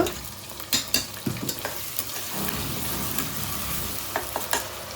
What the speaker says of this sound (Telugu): అయితే కొంచెం వేగిన తర్వాత అల్లం వెల్లుల్లి పేస్ట్